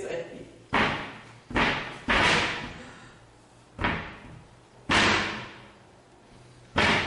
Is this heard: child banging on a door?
yes